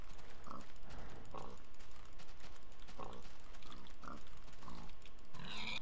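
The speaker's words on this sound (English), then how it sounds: "I'm gonna kill some pigs." Pigs oink and grunt in the video game Minecraft, several short snorting calls spaced irregularly over a steady background of game noise, with a clicking sound near the end.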